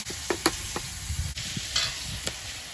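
Oil and an equal amount of butter sizzle in a wok as chicken is cooked, a steady broadband crackle with a few sharper pops and spatters close by, no talking.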